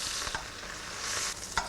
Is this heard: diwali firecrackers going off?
no